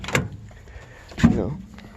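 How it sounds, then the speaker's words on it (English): The door of a 1973 camper van, long unused, with a rusted latch, opens with a knock near the start and a louder clunk and rattle partway through, heard close up. "Now I can open this door."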